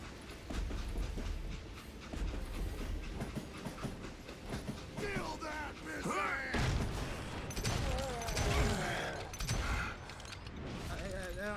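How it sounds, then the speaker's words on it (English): A train rolls along in the western shooter Call of Juarez: Gunslinger, a steady loud rumble with rattling carriage clatter and scattered sharp bursts, with game voices and music layered over it throughout. "How'd they stop this train in the first place?"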